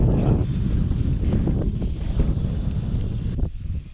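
Strong wind buffets the microphone out on the Delta while fishing from a boat, a loud, continuous roaring rumble that swells and eases in gusts.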